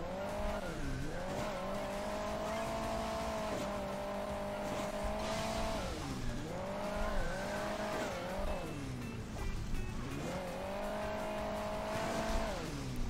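A car engine in Hill Climb Racing 2 drones continuously nearby, its pitch climbing, dipping and climbing again in repeated revving swells, with no speech over it.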